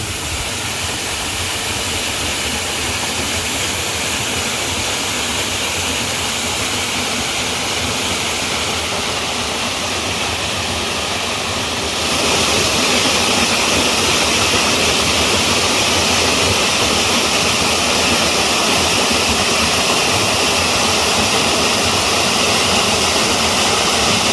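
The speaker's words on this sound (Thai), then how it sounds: "อันนี้ก็เป็นน้ำตกขนาดเล็กนะ" A small waterfall near a village home in Ubon, Thailand, pours in a steady, loud broadband rush that runs the whole time without pause and grows a little louder partway through, with no voices.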